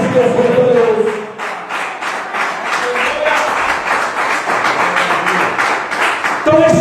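Church congregation at a Pentecostal service breaking into sustained applause and clapping, a dense crowd texture with voices mixed in, loud and close throughout the room.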